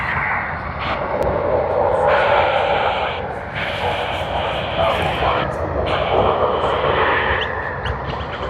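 A jet airliner roars steadily on approach to runway 34 left at Sydney Airport, a loud sustained engine drone with shifting tones, and voices talk over it.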